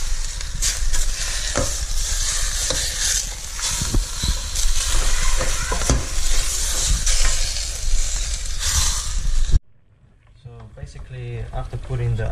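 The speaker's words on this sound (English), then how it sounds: "after putting the onion and the garlic in, I'm frying the chicken up now." Chicken fries in a pan with onion and garlic for a Sarawak village recipe, sizzling loudly while a utensil stirs and scrapes through it, then cutting out as someone speaks over a quieter background.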